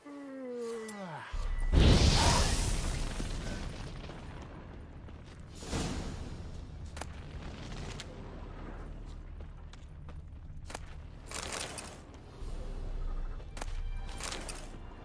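Witcher 3's Igni fire sign bursts out in a sudden loud whooshing blast, then a roaring, crackling rumble that fades over several seconds, followed by scattered thuds and impacts.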